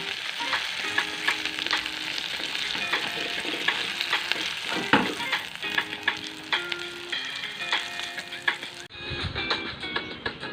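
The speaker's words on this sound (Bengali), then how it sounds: "পাকোড়াগুলো আমি লাল লাল করে ভেজে নেব" Jackfruit seed pakoras deep frying in hot oil in a village-style kitchen, a steady close sizzle broken by scraping stirs and light clatters, with no voices, quieting briefly near the end.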